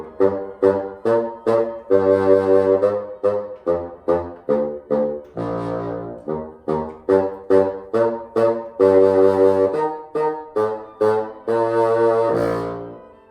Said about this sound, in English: when I put my reed on the bassoon, then I'm able to play some of my low sounds.